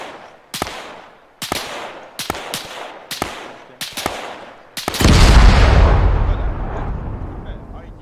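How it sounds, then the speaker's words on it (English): In Arma 3, a string of sharp gunshot cracks fired at irregular intervals leads into a single loud, deep detonation of an IED that rumbles and fades slowly over several seconds. "Dragon 3 is gonna try to detonate the IED."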